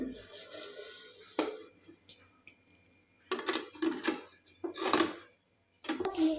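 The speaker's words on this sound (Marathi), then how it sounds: "आता हे सर्व इडली पात्र आहे ते या कुकरमध्ये ठेवून घ्यायचे आहे" Metal clatter and clinks as a steel idli stand is lowered into a pressure cooker, several separate knocks and scrapes at close range with short quiet gaps between them.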